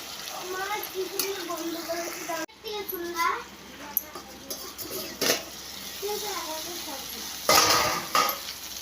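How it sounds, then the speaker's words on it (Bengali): Green chillies and food being stirred in a pan, with scraping utensil clicks and a light sizzle under frequent speech, including a voice, and a sharp clatter of cookware near the end. "দিয়ে ভালো করে নাড়াচাড়া করবো করে আবার একটু ঢেকে দিব"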